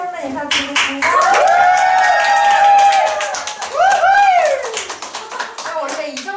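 Seminar audience clapping at a Nu Skin business talk, with tonal music-like sounds and clapping blending over several seconds, then tapering as the room settles; voices present.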